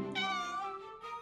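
A cat stuck on a high shelf meows once, long and rising, with a faint trailing second meow at the end.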